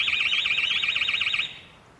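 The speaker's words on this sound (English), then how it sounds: "The alarm system goes off straight away." A home intruder alarm system sounds a loud, rapidly warbling electronic siren that cuts off abruptly partway through, leaving quiet room tone.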